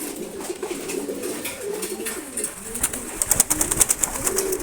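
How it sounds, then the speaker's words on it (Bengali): A rare red checker pigeon pair coos close by in soft, throaty bursts over a low background hum, with brief faint higher chirps near the end. "খুবই আনকমন এবং সুন্দর এক জোড়া কবুতর"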